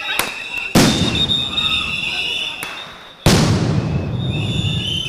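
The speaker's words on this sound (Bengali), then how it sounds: "বেশ কয়েকটি সাউন্ড গ্রেনেড বিস্ফোরণেরও শব্দ শোনা যায়।" Sound grenades explode on a university campus during a police action, about four sharp, loud bangs at irregular intervals, each leaving a long ringing, crackling tail over a noisy outdoor background.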